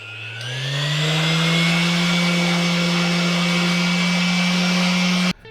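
A Dnipro-M PE-29S random orbital sander spins up and runs at a steady, close, whining hum for several seconds before cutting off abruptly.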